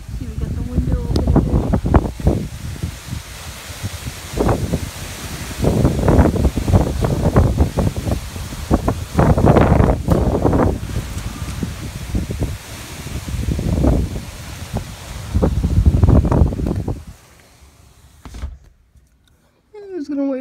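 Hurricane Matthew's wind gusts in Florida blow through an open window in loud, roaring bursts that swell and fade repeatedly, then drop to near quiet at the end as a person talks now and then.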